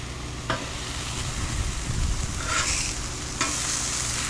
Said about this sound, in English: we're going to get these onions sauteed